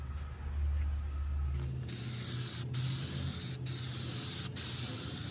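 Zinsser BIN shellac-based primer sprayed from a can onto a metal laundry bin, a rattle of the can's mixing ball first, then a continuous close, loud aerosol hiss with brief pauses.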